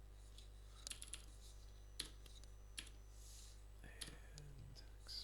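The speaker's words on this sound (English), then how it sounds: "So all those little keyboard clicks that you hear" Faint, scattered computer keyboard clicks come at irregular intervals during digital painting, sparse and light against a low background hum.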